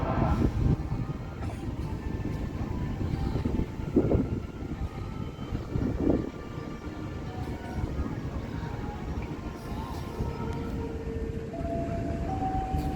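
The Progo economy train at Kutowinangun station gives a continuous low rumble with scattered rattles and knocks, steady and close throughout.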